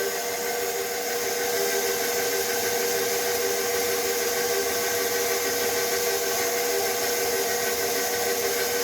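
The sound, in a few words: pasta roller attachment running, rolling dough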